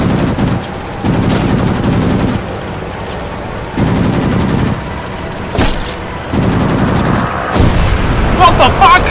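Warplane machine guns firing in the World of Warplanes game, loud bursts of rapid gunfire repeating in several long strings with short gaps, close and dominant, ending in a brief clatter.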